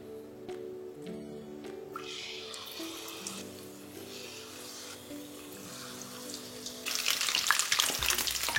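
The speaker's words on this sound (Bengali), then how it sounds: "এবারে একই পদ্ধতিতে আমি বাকিগুলো ফ্রাই করে নিচ্ছি।" Paneer pieces frying in oil in a pan, a soft steady sizzle that swells louder toward the end, with faint kitchen clatter and no talk.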